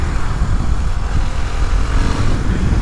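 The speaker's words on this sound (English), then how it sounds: "Not supposed to be an over obnoxious noisy exhaust, which is a good thing." A classic motorcycle's exhaust, the standard baffled can, runs at a steady idle at an outdoor classic motorcycle meet, giving a continuous low rumble that holds close and fairly loud throughout, with no voices.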